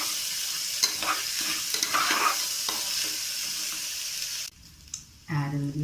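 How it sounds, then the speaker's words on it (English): Pulao frying in a pan with active stirring, a loud close sizzle with repeated scraping strokes, then a brief drop in level near the end before the frying resumes. "Just stir it for 2 minutes."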